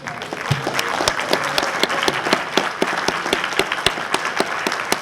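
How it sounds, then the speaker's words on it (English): An audience at a spelling bee event applauds parents and guardians standing to be recognized; dense, steady clapping from many hands fills the room throughout, with a few sharper individual claps standing out. "We'd like to applaud you."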